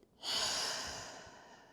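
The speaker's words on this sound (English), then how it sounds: "And just take a few deep breaths." A single deep breath during a mat Pilates rest in child's pose, a soft airy exhale that swells quickly and slowly fades, close and alone.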